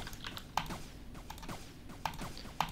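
Rapid mouse clicking from drag-clicking during a Roblox Blade Ball duel, a dense run of light clicks with a few sharper louder taps, close and with no talking.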